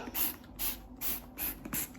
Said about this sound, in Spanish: vamos a rociar bien todo el bolso, excepto las asas que ya están medio tratadas, con el spray limpiador